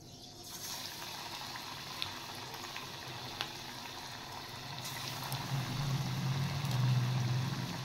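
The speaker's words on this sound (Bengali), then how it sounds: "এবার আমি বড়াগুলো ভেজে নিচ্ছি" Lentil-flour fritters (bora) fry in hot oil with a steady, soft bubbling sizzle that swells gradually louder toward the end, with a few faint clinks.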